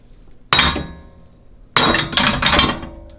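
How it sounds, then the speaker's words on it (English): A hammer strikes a coilover's bottom bolt during a suspension install, giving one sharp metallic whack followed by a quick series of ringing blows, loud and close. "Let's give it a good whack."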